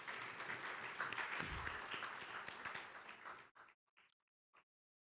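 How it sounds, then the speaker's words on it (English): Round of applause at the closing of the PAFOM 2022 meeting, a dense burst of many hands clapping that fades out abruptly, leaving a few scattered claps in near silence. "So please give them a round of applause"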